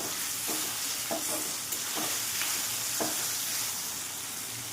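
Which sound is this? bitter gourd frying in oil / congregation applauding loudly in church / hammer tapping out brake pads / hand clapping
bitter gourd frying in oil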